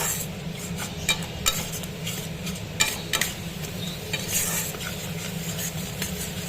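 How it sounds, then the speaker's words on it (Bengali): Masala spices for a bhetki fish-bone chorchori fry and get stirred in a pan, with a steady sizzle under repeated clinks and scrapes of a spoon against metal, close by. "মশলাটা একটু কষাতে থাকি"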